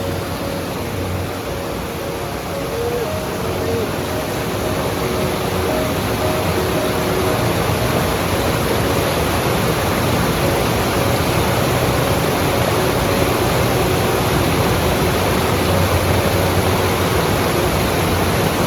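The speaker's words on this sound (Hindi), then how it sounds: "पानी भरने जा रहा हूँ।" A mountain stream in Uttarakhand where water is being filled, a steady loud broadband rush of flowing water that continues unbroken for the whole stretch with no voices.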